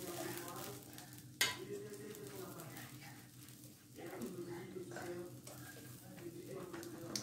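Flatbread dough cooks in a hot pan greased with butter, a soft steady sizzle running throughout with a sharp clink near the start and occasional scraping, under a person talking.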